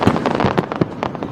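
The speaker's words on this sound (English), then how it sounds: "There was a pregame fireworks show," Pregame fireworks at a Seattle Mariners baseball game give a rapid run of sharp booming bursts and crackles close together. The explosions are loud and dense, with no gaps.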